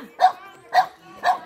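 A dog gives three evenly spaced barks at fairly close range, each one short and sharp, with quiet gaps between them.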